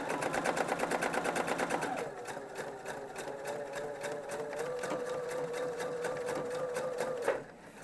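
A Pfaff Expression 715 sewing machine stitches in quick rapid strokes, then shifts to a slower, steady rhythmic run while sewing in reverse, close and clear, stopping abruptly near the end.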